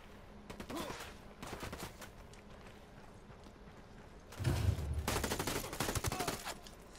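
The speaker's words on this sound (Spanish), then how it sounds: "los cabrones tienen ametralladoras pesadas" Heavy machine guns rattle in Ghost Recon Wildlands, bursts of rapid gunfire in short clusters, then a louder, denser sustained volley near the end.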